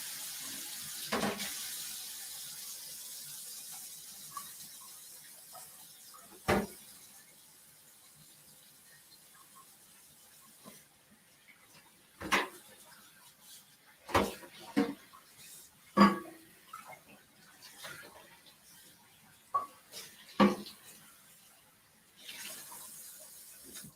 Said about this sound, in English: So I've got this wee little casserole dish. Let me wash it out.